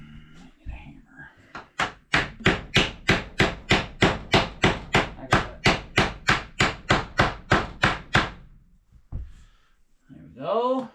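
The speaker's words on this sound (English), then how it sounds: "I need a hammer." A hammer strikes repeatedly at a remote off-grid cabin, about twenty sharp evenly spaced blows in a steady rhythm, loud and close, with brief speech before and after.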